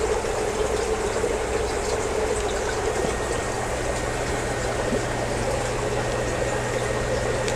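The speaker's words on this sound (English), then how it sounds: "that's the sponge filter in that other tank" Steady bubbling from a sponge filter in a fish tank, a continuous watery burble with a low pump-like hum running evenly throughout, close and moderately loud with no talking.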